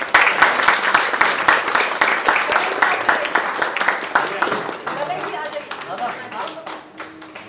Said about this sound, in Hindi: तालियां हो जाए एक बार जोरदार